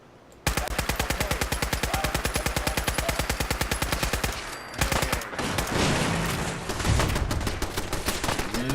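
Fallout 4 combat, with a long, rapid, steady burst of close machine-gun fire followed by heavier booming blasts and more shooting, loud and with no talk.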